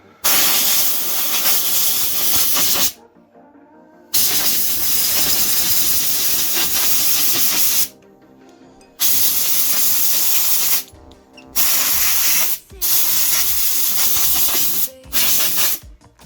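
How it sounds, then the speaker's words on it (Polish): An air compressor nozzle blows debris off a piece of wood in loud, close hissing bursts of a few seconds each, separated by brief pauses, with no talking. "to fajnie można zrobić to kompresorem"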